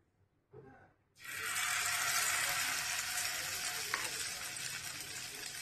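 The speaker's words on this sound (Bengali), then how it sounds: "তেলটা বেশ গরম হয়ে গেছে, এবার চিকেনের পিসগুলো একটা একটা করে আমি এর মধ্যে দিয়ে দেব" Chicken pieces for garlic chicken drop into very hot oil and set off a loud, steady sizzle that holds to the end, after a brief soft clatter at the start.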